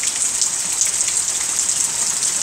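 Steady rain patters and hisses continuously, a dense bright crackle of drops with no talking.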